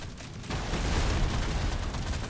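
A dense, continuous rumble of explosions and crackling blasts in Deep Rock Galactic: Survivor fills the whole stretch, loud and unbroken after a brief quieter start.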